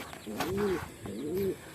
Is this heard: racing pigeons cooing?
yes